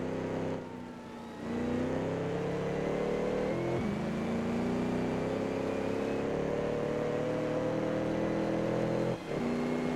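A 1934 Alfa Romeo P3 race car engine in Assetto Corsa drones loud and steady throughout, its pitch climbing gradually through the gears with brief dips at shifts, close and continuous with no talk.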